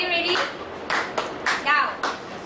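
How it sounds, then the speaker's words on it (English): Secondary school students in a classroom give a short round of applause, a few scattered bursts of clapping heard close and moderately loud, with a voice talking over part of it. "can we give them a round of applause for being so great"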